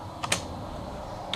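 A few quick keystrokes on a computer keyboard while working in Ubuntu 13.04: two close clicks near the start, a pause, then one more tap at the end, crisp and near in a quiet room.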